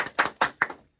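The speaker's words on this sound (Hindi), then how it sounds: "एक बार जोरदार तालियां होनी चाहिए।" Brief claps in a radio studio as a film's star cast is welcomed: three sharp, loud hand-clap bursts spaced evenly, fading quickly into silence.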